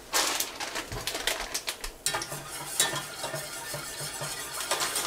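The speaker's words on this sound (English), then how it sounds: "You want to stir this until it pretty much starts coming to a boil." A spoon stirs a pot of cheesy ham and potato soup as it heats toward a boil, giving close, soft scraping and clinking strokes in an irregular rhythm with no talking.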